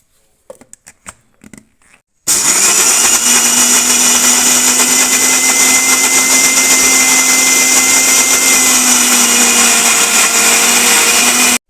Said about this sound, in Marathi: आणि आता आपण हे सर्व मिक्सरला लावून घेणार आहोत